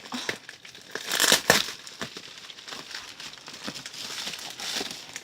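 Packaging of Seventeen season's greetings merchandise being torn open, close crinkling and rustling plastic and paper with a louder tearing burst near the middle, then softer scattered crackles.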